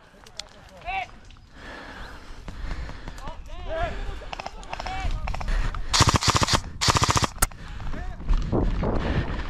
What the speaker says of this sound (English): They're firing straight down the road.